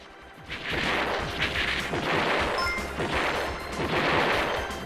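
Continuous rapid shooting and bomb blasts from the arcade shoot-'em-up Gunbird, a dense, steady barrage of weapon fire with bursts of explosions swelling every second or so, with no talking over it.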